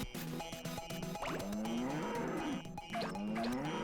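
Cows mooing on a cow farm in Katamari Damacy Reroll: long, drawn-out lowing calls repeat over a busy game music bed, loud and close.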